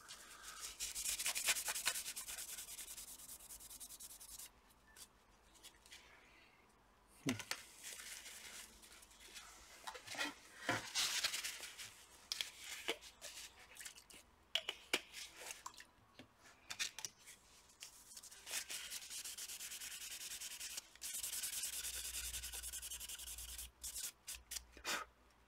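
Scrubbing and rubbing on the cooler of a Huawei MateBook D NBL-WAQ9R laptop during a thermal paste replacement, close-up bursts of brushing friction with short pauses and scattered small clicks, no talking.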